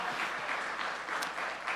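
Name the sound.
church congregation applauding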